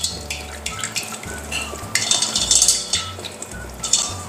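A utensil stirring and clinking against a bowl while mixing egg yolks, cooking oil and evaporated milk, close and uneven, with sharp scraping taps and brief pauses between strokes.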